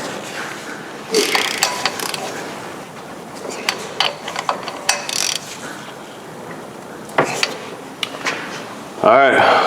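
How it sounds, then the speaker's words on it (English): A hand ratchet clicks in quick bursts while torquing down the clutch bolts on a 2005 Honda Civic, with repeated close, metallic clicking runs separated by short pauses and brief speech near the end. "so we can just go through and torque these down"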